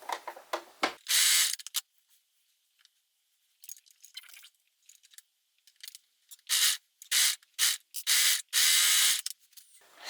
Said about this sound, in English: Overlocker is turned on. We are going to sew at 3/8.